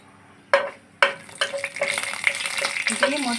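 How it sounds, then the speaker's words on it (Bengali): Whole cumin, dry red chilli, bay leaf and cinnamon drop into hot mustard oil in two quick additions, each setting off a sudden crackling sizzle that settles into a steady, close frying hiss. "দিয়ে মশলাটা একটু ভেজে নিব।"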